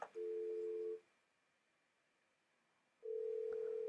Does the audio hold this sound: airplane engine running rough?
no